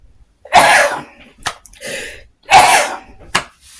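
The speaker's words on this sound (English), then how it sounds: "I don't know where these sneezing fits are coming from" A person has a sneezing fit: two loud, close sneezes about two seconds apart, each followed by a short, sharp burst.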